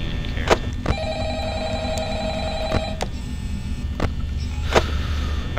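A telephone rings in the office of the Five Nights at Freddy's video game, sounding as repeated electronic trills that sit over a steady low hum, with a few sharp clicks between them.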